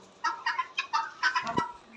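Guinea fowl in a garden give a run of short, repeated clucking calls, about six bursts close together, fairly near and moderately loud with no talk over them.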